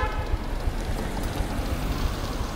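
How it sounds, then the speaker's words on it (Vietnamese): A heavy afternoon rain shower pours onto an old quarter street, a dense, continuous hiss and patter with no let-up throughout. "lại nhận được một trận mưa rào, phải nói là"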